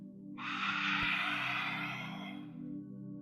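A single forceful exhale blown out through the mouth in Bhastrika breathing, a breathy close rush lasting a couple of seconds and trailing off, heard alone without talk.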